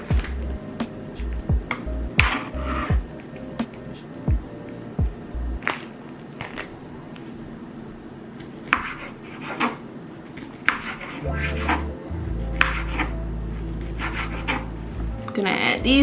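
Knife chopping chicken sausages studded with red and green peppers on a wooden cutting board, a series of sharp, close taps with irregular spacing, then some scraping and a low hum toward the end.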